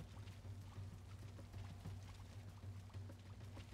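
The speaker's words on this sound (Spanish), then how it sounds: "Y como escuché el agua." Faint, continuous water sloshing and trickling in Warcraft 3 Reforged, low in level, with a steady murmuring texture and no voices.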